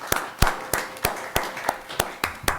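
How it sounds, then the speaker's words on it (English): A small group claps at a district board meeting, with sparse, distinct claps landing in a loose, regular rhythm, each one sharp and close, and no voices over them. "Give him a big round of applause."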